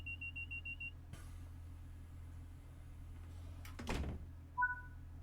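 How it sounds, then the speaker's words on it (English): Doors lock on a Class 142 Pacer train: a steady warning beep sounds first, then a heavy mechanical thunk lands over the low engine hum, followed by two short electronic tones. "let's lock the doors"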